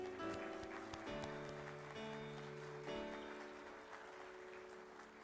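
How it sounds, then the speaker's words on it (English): A church congregation applauds the graduating class of 2021 at a Baptist morning service: steady, dense clapping that lasts the whole stretch, blended with sustained musical tones. "Please give them a round of applause."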